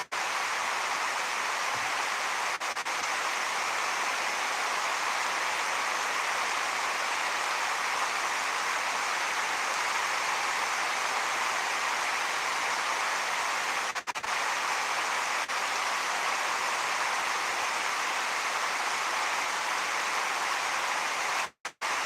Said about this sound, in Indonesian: Lebih 3 jam hujan ah.